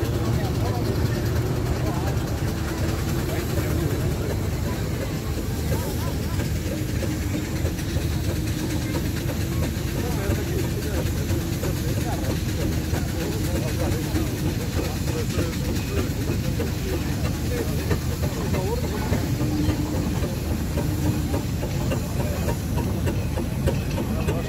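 A miniature steam engine runs at a traction engine show, giving a continuous rumbling, chuffing drone that carries on steadily, with an announcer talking over it.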